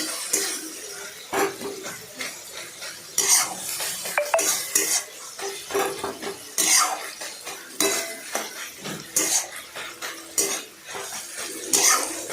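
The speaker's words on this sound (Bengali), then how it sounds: "নুন দেবেন, এবং কালো জিরে দিয়ে সেটাকে ভালো করে নাড়াবেন" Salt and black cumin stirred in a pan while cooking a water lily dish: steady, repeated metallic scraping and clanking of a utensil against the pan, close and fairly loud, with a light sizzle underneath and no talking.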